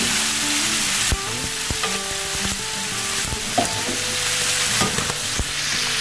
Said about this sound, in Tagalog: Tapos yung aking kasama, piniprito niya yung iba nating huli